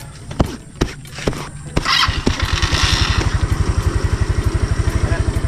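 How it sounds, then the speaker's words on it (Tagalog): A motorcycle engine sputters to life after a few clunks, then runs with a steady, rapid putter, fairly close. "gasan lang natin yung motor ni Tilo."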